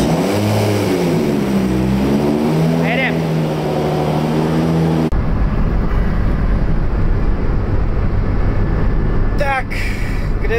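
Car with a forged Nissan RB engine held on the launch brake, revving hard and loud in a closed garage, a steady droning roar that rises sharply near the end, with people talking over it early on.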